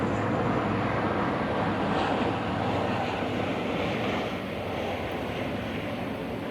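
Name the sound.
airplane flying overhead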